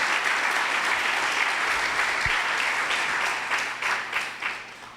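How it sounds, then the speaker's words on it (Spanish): A church congregation claps loudly and continuously during a Spanish-language worship service, a broad sustained ovation that thins and fades toward the end. "Denle un aplauso fuerte al Señor."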